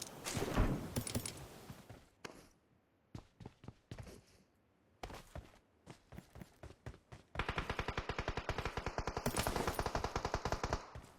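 Video game gunfire: close, sharp single shots and short bursts with quiet gaps between them, then a long rapid burst of automatic fire at the end.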